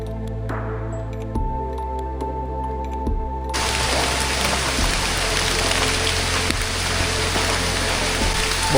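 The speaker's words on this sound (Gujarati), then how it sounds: "બહુ જ હેવી વરસાદ છે." Heavy rain falls in the Matheran jungle, starting quieter and surging into a dense, steady broadband downpour after a few seconds, loud and continuous with a low rumbling undertone.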